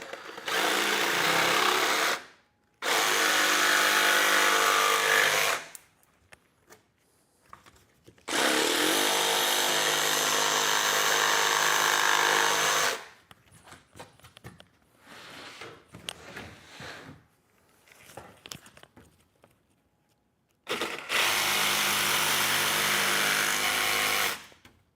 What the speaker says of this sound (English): I'm using a really aggressive jigsaw blade.